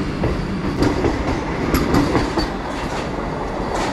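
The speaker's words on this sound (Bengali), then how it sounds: "পেছনেই দাঁড়িয়ে আছে আমাদের বন্দে ভারত এক্সপ্রেস।" A Vande Bharat Express train at Balasore railway station gives a close, steady low rumble with scattered metallic clanks and clicks. No one speaks.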